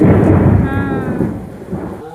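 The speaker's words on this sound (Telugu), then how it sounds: "ఉరుముల శబ్దం." Loud, deep rolling thunder rumbles continuously and slowly fades, with a faint voice briefly audible.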